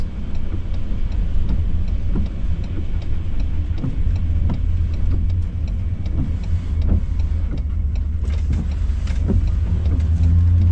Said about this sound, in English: A lot of cars.